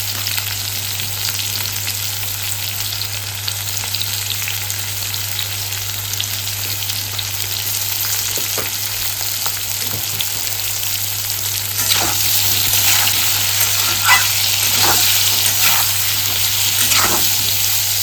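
A vegetarian dish sizzling and frying in a pan after salt and turmeric go in, with a steady loud sizzle and occasional scraping stirs growing more frequent toward the end.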